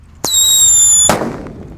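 Happy Power 3 firecracker wrapped in paper fizzes with a sharp whistling squeal for about a second, then bursts in a single loud close bang that fades quickly.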